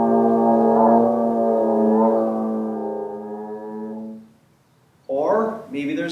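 Trombone holding a low, buzzy, wavering drone meant to imitate a vacuum cleaner, loud and close for about four seconds before trailing off, then a person briefly speaks.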